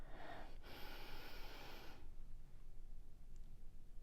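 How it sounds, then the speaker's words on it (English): A slow, deep inhale is drawn in through the nose, a soft airy rush that lasts about two seconds and then fades into quiet room tone. "Take a slow breath in"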